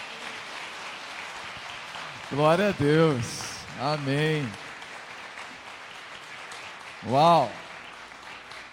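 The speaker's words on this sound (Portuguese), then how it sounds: "E que vocês deixem uma salva de palmas para o Senhor" A church congregation at an encouragement meeting claps steadily throughout, a soft, even patter of applause running under several short spoken exclamations and praise from people in the room.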